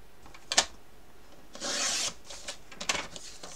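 Paper is cut by hand for a scrapbook album page, giving close, quiet scraping and rasping strokes, a couple of short snips and one longer slicing pull, with no talking.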